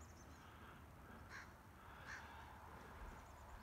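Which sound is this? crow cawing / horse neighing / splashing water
crow cawing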